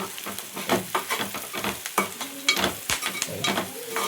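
A spoon stirs potato curry seasoned with turmeric in a hot pan. Repeated scraping and clinking strokes come in an uneven rhythm over a light sizzle, close and clear, with no talking.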